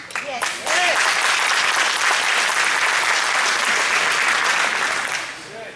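An audience at a county candidate forum breaks into loud, dense applause that begins after a brief spoken moment, holds steady, then tapers off at the end.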